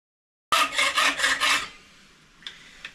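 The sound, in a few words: hand saw cutting an 8mm rod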